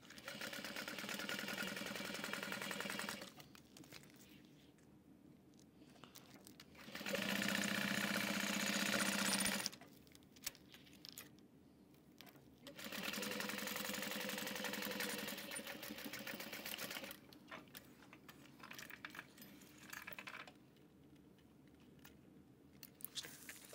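A home sewing machine stitching through layers of clear vinyl for a train case, running in several bursts of steady rapid whirring and clattering with quiet pauses between runs, close and alone.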